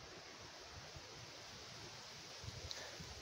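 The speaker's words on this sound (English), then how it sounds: "It's windy." Steady wind rushes through a forest with leaves rustling, a soft continuous broadband wash that stays even and fairly faint throughout, with no voices.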